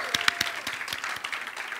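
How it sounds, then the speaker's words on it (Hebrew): Brief scattered clapping at a school graduation ceremony, a handful of distinct hand claps over a soft background murmur. "כפיים, כפיים."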